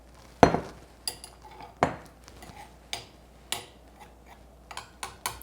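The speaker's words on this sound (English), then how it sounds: "let me get mixing again" A spoon works blueberry cookie dough in a bowl, making irregular knocks and clinks against the bowl every half second or so, close and fairly quiet with no one talking.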